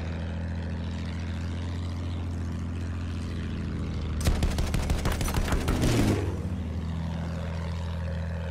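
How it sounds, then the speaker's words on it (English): Enemy aircraft in the video game Battlefield 1 pass amid a steady low engine drone, with a sharp burst of rapid machine-gun fire crackling for about two seconds partway through. "Enemy aircraft moving around!"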